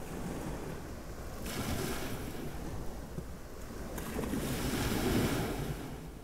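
Waves wash onto a beach near Hua Hin, Thailand, with two broad surges of surf rolling in over steady wind noise, no voices.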